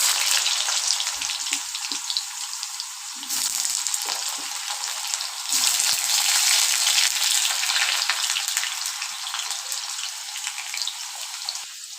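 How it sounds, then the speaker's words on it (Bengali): Potato pieces fry in hot mustard oil in a kadai, a loud continuous close sizzle with crackling spatter that surges in bursts throughout. "এতে প্রথমে ফ্রাই করে নেব পটেটোগুলো"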